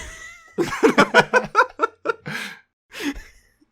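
A voice imitates a cat's meow that gradually shifts into a cow-like moo, a string of pulsing vocal bursts followed by a short final call, loud and close with no other sound.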